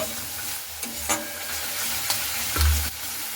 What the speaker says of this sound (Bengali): চিনিটা দিয়ে মশলাটার সঙ্গে খুব ভালো করে একটু কষিয়ে নিচ্ছি